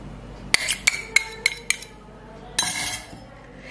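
Chopped onion and two garlic cloves go into a cooking pan for an Iftar dish in a Kerala kitchen, a metal spoon clinking sharply against the pan several times in quick succession, then a brief scraping clatter.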